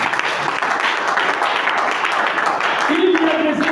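A church audience at a sermon bursts into loud, sustained applause that fills the whole stretch, with a voice rising over the clapping toward the end.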